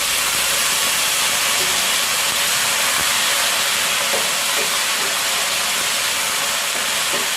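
Diced elephant foot yam hits hot tempering oil with curry leaves in a home kitchen, giving a steady, loud broadband sizzle and hiss that holds throughout with no talking.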